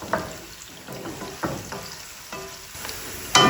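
Food roasting in a pan on a stovetop without browning, giving a soft steady sizzle broken by several scraping stirs and a sharper clatter near the end; no talking.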